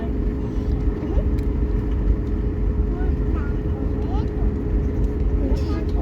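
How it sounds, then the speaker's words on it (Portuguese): An airliner accelerates down the runway for takeoff, heard from inside the cabin as a loud, steady engine roar and rumble that holds constant throughout, with faint voices beneath it. "Tripulação, preparar para a decolagem."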